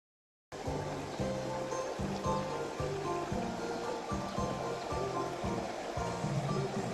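Steady rushing water from a waterfall in a temple park, a broad continuous wash that fills the clip at moderate level, with faint rhythmic low thumps underneath and no clear talk.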